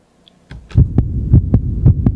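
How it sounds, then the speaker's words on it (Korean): A heartbeat sound effect in a children's Bible story about Mary, with a deep, loud, steady thumping of about six beats after a brief silence, each beat booming and resonant, with no voices. "두근두근, 쿵쿵쿵쿵! 마리아의 가슴이 뛰었어요."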